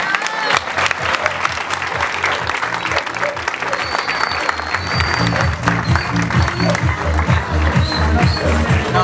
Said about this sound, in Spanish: un fuerte aplauso para el Club Villarias